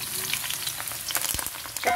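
Eggplant goes into hot oil and fries with a close, crackling sizzle, with sharp pops and spatters rising toward the end, and no voices.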